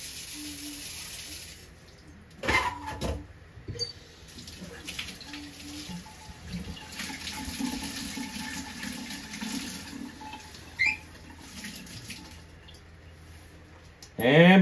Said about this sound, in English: Rinse it out.